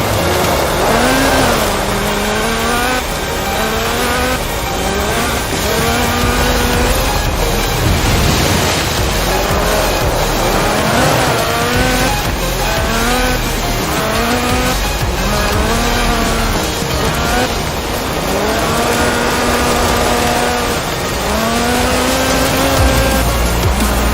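Lotus Sunbeam rally car with a 2.2-litre Lotus slant four-cylinder engine racing in Forza Horizon 4, its engine revving up and down in repeated rising shift sweeps over continuous road and tire roar, loud and close.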